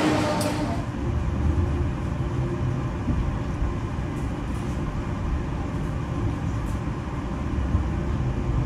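A CC203 diesel locomotive hauling an extra Jakarta–Jogja–Solo economy train, heard as a steady loud rumble of wheels and engine throughout, with no talking.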